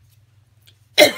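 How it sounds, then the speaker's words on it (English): One sudden cough bursts out after near silence, short and close. "I'm going to start coughing."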